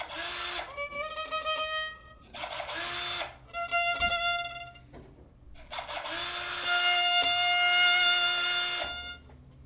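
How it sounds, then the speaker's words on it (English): A power drill whines up to speed three times: two short bursts, then a longer run that holds steady before winding down. "Obviously, this is a power drill."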